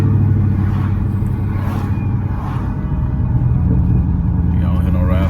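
A Dodge Charger SRT8 with a straight-pipe exhaust gives a deep, steady low rumble close by, sustained throughout with faint voices underneath.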